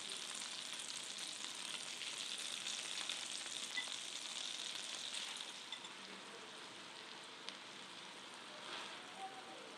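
Chicken tikka pieces sizzle steadily in melted butter in a nonstick pan, a dense continuous frying hiss that holds for the whole stretch with no talk, easing slightly toward the end.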